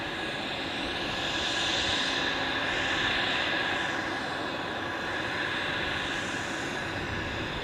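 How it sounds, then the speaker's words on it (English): Airliner landing at Zurich Airport, a broad steady jet roar heard from a distance that swells and fades slightly, with no talk. "The Washington flight has just landed."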